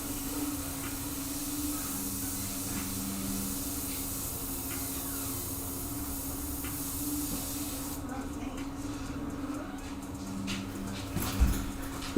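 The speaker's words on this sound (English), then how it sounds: "I really love airbrushing" Airbrush hissing steadily as it sprays paint onto a canvas, a continuous airy spray running throughout under low background noise with faint voices.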